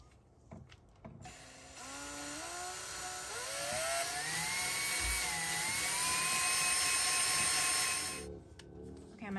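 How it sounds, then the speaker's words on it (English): A power drill whines steadily for several seconds, its pitch climbing as it bites into a car's metal body, then cuts off abruptly. "So I know that that's a good safe place to drill"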